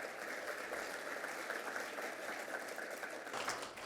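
Audience applause at a regional economic forecast forum, steady and fairly soft, sustained across the whole stretch without a break, sounding like a seated crowd clapping from some distance in a hall.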